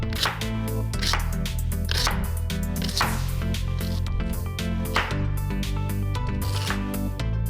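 Onions chopped into small wing-shaped pieces on a cutting board for a pot roast: repeated knife taps against the board, steady and close, with music playing underneath.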